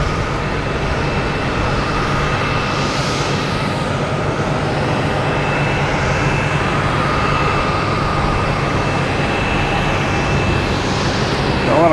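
A Southwest Boeing 737 arriving from Denver into Boston Logan Airport gives a continuous, moderately loud jet roar that holds steady with no voices over it.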